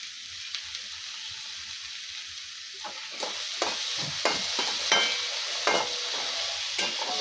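Potatoes fry in a pan with a steady crackling sizzle, broken up by repeated scraping stirs at an unhurried rhythm.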